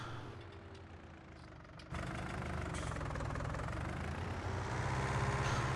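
A tractor engine in Farming Simulator 19 idles and drones steadily at a close, even level, then jumps louder partway through and keeps rumbling with a knocking texture.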